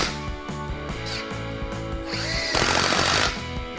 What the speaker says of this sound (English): Now I could remove the clamps and screw in the second set of screws.